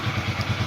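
A motorcycle with i3s idle stop-start engine running just after being started, a steady close idle with an even, rapid low thumping pulse through the short stretch.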